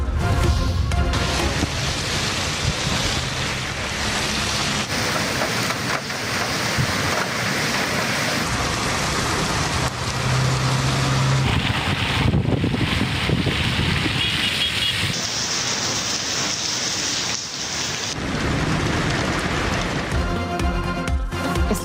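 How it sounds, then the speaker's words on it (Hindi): Rain and storm winds lash Islamabad in a thunderstorm with hail, a loud, steady roar of wind and rushing water that swells and eases over the whole stretch with no talk. "इस्लामाबाद में गरज चमक के साथ बारिश और जालाबारी। तूफानी हवाओं से दरख्त गिर गए।"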